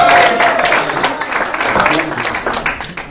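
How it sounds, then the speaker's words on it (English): A round of applause from an event audience for a speaker, a crowd clapping steadily and fairly loudly while a voice carries on over the claps. "So another round of applause for Brian Schilling."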